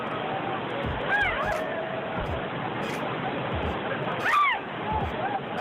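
Steady broadband roar of a rushing waterfall during flooding, its fast, swollen current carrying on throughout, with shouting voices and bird-like chirps breaking in over the water.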